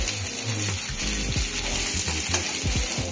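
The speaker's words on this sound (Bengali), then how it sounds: "সবজিগুলো দিয়ে নাড়াচাড়া করে নিচ্ছি।" Chopped vegetables fry in a pan as they are tossed and stirred, making a dense steady sizzle with gentle scraping strokes running throughout.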